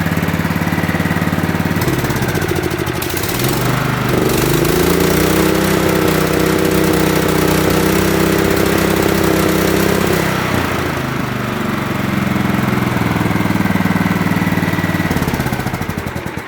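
A Craftsman riding mower engine idles after an oil change, a loud, close, steady mechanical chug that dips briefly in pitch and recovers, running continuously with no voices.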